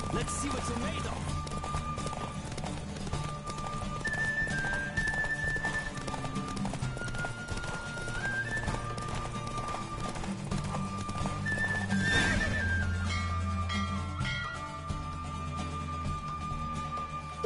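A horse gallops hard and neighs during a horse race in The Witcher 3, with steady clip-clop hoofbeats throughout, game music and voices talking over the run.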